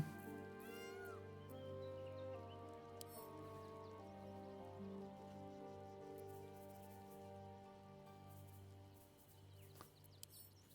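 A cat meows several times in Baldur's Gate 3 over a sustained musical drone with soft rain-like ambience beneath.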